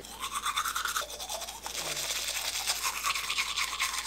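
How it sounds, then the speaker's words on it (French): Steady scratchy scrubbing of a toothbrush brushing teeth, close and fairly quiet, continuing without pause for a few seconds with no talking. "avant de sortir, me brosser les dents."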